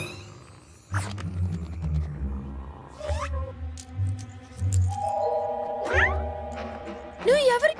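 A cartoon cat yowls and meows in drawn-out, wavering cries, voiced by a performer and heard alongside talking and small chime-like sound effects.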